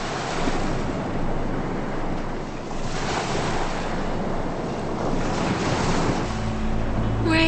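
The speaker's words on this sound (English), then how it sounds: "The sea's too choppy." Choppy sea waves churn and wash in a steady, loud, continuous roar of surf, with wind buffeting the microphone throughout.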